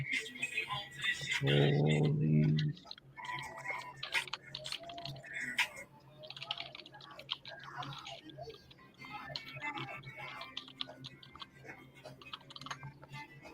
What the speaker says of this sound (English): I'm typing in this email real quick